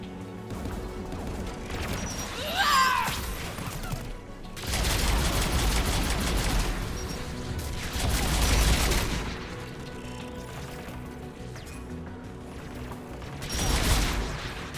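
Video game gunfire from tower guns in Mass Effect, loud repeated bursts of rapid shooting and heavy impacts in several waves, with mechanical clatter between them.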